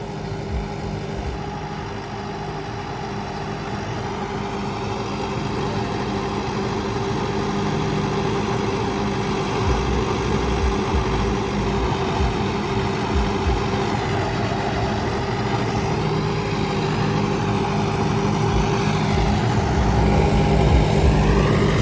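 A Mahindra Arjun 605 Ultra Turbo tractor with an MPC unit runs steadily close by in a paddy-straw field, its low diesel rumble holding constant and growing slightly louder over time, with no voices.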